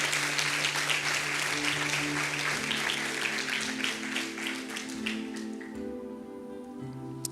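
A church congregation applauds during a celebration service, a steady, dense wash of clapping that fills the room while sustained organ or keyboard tones hold underneath and slowly fade toward the end.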